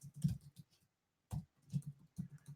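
Computer keyboard typing in a room, a short burst of clicky keystrokes, a pause, then two more clusters of taps, close and fairly quiet with no one speaking.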